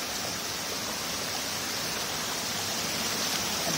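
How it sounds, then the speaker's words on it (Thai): Floodwater flowing along a waterway gives a steady, broad rushing wash, constant and fairly loud from start to end with no voices or breaks. "นี่น้ำไหล"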